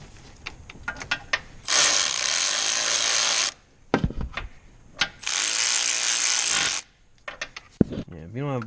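Ratchet wrench bolting an AC compressor back onto a Land Rover LR4: two long, loud bursts of rapid ratcheting clicks with scattered metallic taps and clunks of tools in between.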